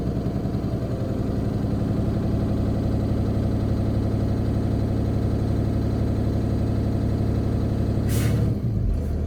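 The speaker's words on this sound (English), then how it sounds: "I'm going to accelerate, bringing the RPM up above 120, bringing the RPM up to 1500" A diesel truck engine revs and holds a steady drone as it is brought up to about 1500 RPM during a CDL air brake test, loud and continuous, ending with a short sharp hiss of released air.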